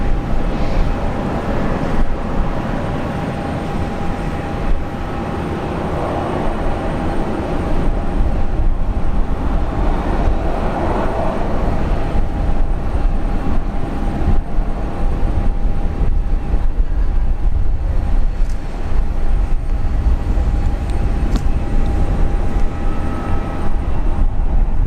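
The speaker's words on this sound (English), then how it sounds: "Ladies and gents, Hercules just landed." A Lockheed C-130 Hercules landing at Brisbane International Airport, a loud, steady, droning roar of turboprop engines that holds evenly throughout, heard from an outdoor spotting position with no talk.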